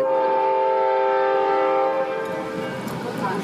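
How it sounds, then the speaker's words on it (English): Conway Scenic Railroad train sounding a loud, sustained chord horn close by, then the horn cuts off and the rumble and clatter of the passing cars take over. "That's the train. That's our friend, the Conway Scenic Railroad"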